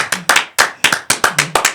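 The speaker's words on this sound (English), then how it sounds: "A round of applause as we introduce to you Mr. Jude Orhorora." A few people in a studio audience clap for a guest, about a dozen sharp, close, separate claps in an uneven rhythm, loud and with no voices.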